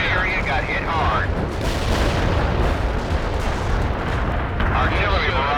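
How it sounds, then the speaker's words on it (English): Heavy artillery barrage in the video game World in Conflict, a dense continuous roar of rumbling shell impacts and blasts filling the whole stretch, with radio-style voice chatter over it. "Heavy artillery barrage inbound."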